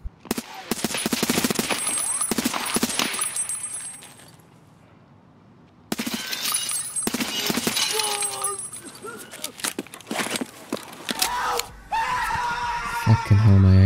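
Video game gunfire spraying ammo, bursts of rapid automatic shots in two long volleys separated by a short lull, loud and close, mixed with game effects and a voice.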